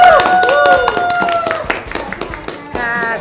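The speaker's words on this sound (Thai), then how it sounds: "ปรบมือค่ะ" Clapping at a Thai university graduation ceremony: a quick run of sharp hand claps, fairly close, over steady tonal sounds and a voice that continue throughout.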